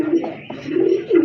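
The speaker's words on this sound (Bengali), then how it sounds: "এই যে দেখেন কবুতরগুলো" A pair of deep red pigeons coo up close and loud, their low rolling calls rising and falling in a few short phrases.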